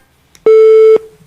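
A single loud telephone busy-signal tone after a cut-off call, a steady half-second beep standing alone against near silence.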